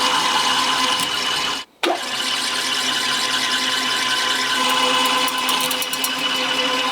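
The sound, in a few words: drilling with a drill bit on a drill press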